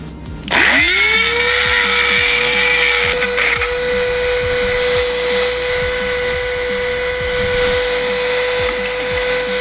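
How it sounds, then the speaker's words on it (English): A Dremel rotary tool spins up sharply and then holds a loud, steady high-pitched whine as it drills out a glue stick's inner spiral, close and continuous with no talk. "we're gonna stick the Dremel on there and let it do its thing"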